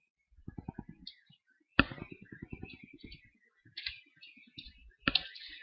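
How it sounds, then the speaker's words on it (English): Someone types on a computer keyboard in quick runs of close, crisp key clicks broken by short pauses, with a louder sharp keystroke now and then. "this time we'll type in all this information with no spaces"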